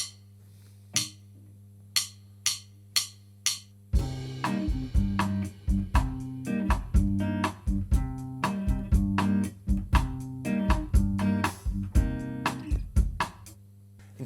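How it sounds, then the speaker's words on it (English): Fingerstyle bossa nova guitar pattern in a Latin style, thumb picking the bass while fingers add chords on the offbeats; a few light plucks open before the full syncopated groove rolls steadily and close. "Adding the chords with the fingers sounds like this."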